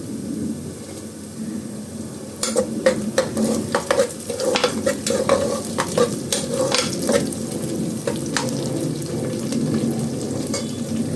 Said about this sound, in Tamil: இப்போ வெங்காயம் நல்லா வதங்கி வந்துடுச்சு லைட்டாக ப்ரௌன் கலர் வந்துக்கிட்டு இருக்குது இந்த டைமில் பச்சை மிளகா போட்டுக்கலாம்